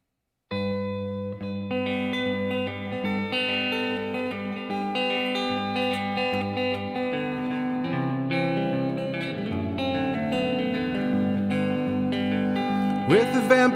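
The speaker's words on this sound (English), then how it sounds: "I'm gonna crank the reverb back up here" Electric guitar played through heavy reverb at a live-streamed song performance, sustained chords ringing steadily and washing into a long echoing tail, loud and continuous throughout with no voice.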